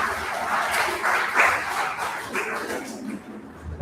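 Audience at a national conference claps for a speaker, a short burst of dense, fairly close applause that swells and fades slightly over a few seconds.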